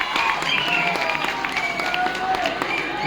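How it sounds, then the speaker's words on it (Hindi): An audience claps loudly and steadily at a lucky draw event where bikes and scooters are given as prizes, a dense wash of applause with crowd noise and a voice talking over it. "तो एक बार जोरदार तालियों के साथ ताली।"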